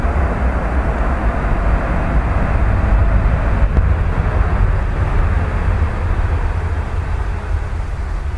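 A passenger jet arriving from Doha at Dublin Airport produces a loud, steady engine roar that holds constant and broadband throughout, with no talk over it.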